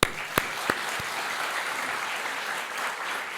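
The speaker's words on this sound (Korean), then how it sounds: "박수 한번 쳐주세요" Church congregation at a Sunday service in Jeju claps in a continuous, dense wash, with a few sharp louder claps or knocks standing out near the start.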